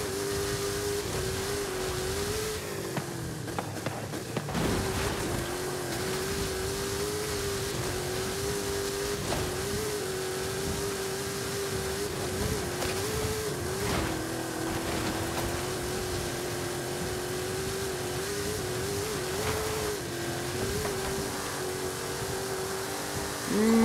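A car engine in Forza Horizon 5 Eliminator mode drones steadily and loudly as the car accelerates, its pitch rising and dipping through gear changes across the run.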